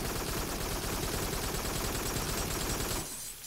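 Enemy gunfire in the VR shooter Farpoint, a dense, loud and continuous burst of rapid shots filling the whole stretch before dropping away abruptly near the end.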